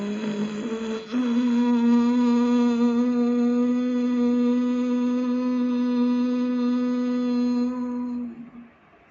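Steady humming breath in the bhramari style, a low bumblebee-like drone held for about seven seconds after a brief start, loud and even, fading out at the end with no talk.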